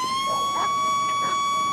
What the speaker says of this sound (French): je veux voir ce que c'est que cette alarme qui sonne là-bas.